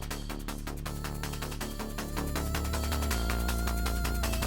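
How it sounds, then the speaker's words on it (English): Dense electronic game music with driving drums and a pulsing bass line, a tense layered cue that thickens partway through. "the music is going to immediately add in the spider cue."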